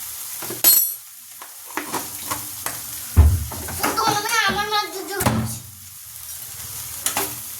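Rohu fish curry gets stirred in a pan with scattered spatula scrapes and clinks alongside a soft sizzle, while a person speaks briefly in the middle.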